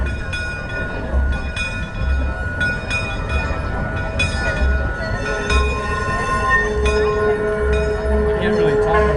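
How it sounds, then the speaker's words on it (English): Hutchinson and Northern #1, a small electric switch locomotive from Kansas, runs loud and close at a rail festival trolley parade, giving a steady mechanical drone with a low rhythmic rumble and repeated clanking bursts throughout. "This is the little electric switch locomotive."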